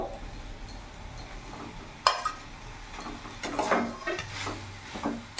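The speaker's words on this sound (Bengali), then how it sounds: "ভালো করে মিশিয়ে নিই" Fried potatoes being stirred into a soybean curry in a pan, soft scraping and a few knocks of the spoon against the pan over a faint sizzle, close and fairly quiet.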